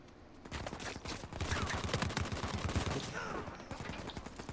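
Rapid bursts of automatic gunfire in Uncharted 4, dense cracking shots layered over one another, building to a loud flurry midway before easing off slightly, with no talk over it.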